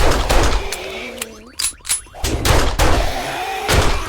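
Repeated gunfire while shooting zombies in the video game 7 Days to Die, several close, loud shots spaced irregularly, with a brief gap partway through and thuds among them.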